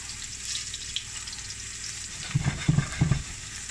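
Garlic sizzles in a pan with a soft, continuous frying hiss, close by, and a few brief low clunks near the end, as if the pan or spoon is knocked.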